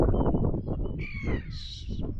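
A gull calls near a muddy shoreline at the beach, a couple of harsh cries rising over steady wind and surf noise with no talk.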